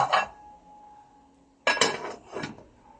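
A metal lid clanks onto a pot, a sharp clatter followed by a couple of softer settling clinks, close and otherwise quiet.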